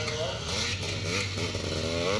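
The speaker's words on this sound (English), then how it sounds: "Chris Lappin is in third position on the big four-stroke Husqvarna." Four-stroke Husqvarna motorcycle racing on a scramble track in Northern Ireland, its engine droning loudly and steadily throughout, with a commentator's voice running over it.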